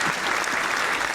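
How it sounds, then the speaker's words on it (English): Dense, steady applause from a crowd fills the short moment, a continuous wash of many hands clapping at even loudness. "Are you enjoying the applause when it shows up?"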